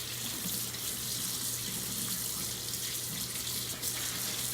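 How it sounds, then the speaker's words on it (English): Hands being washed under a running kitchen tap, a steady hiss and splash of water flowing into a sink, continuous and fairly close with no speech. "It is important to wash your hands thoroughly with warm water and soap."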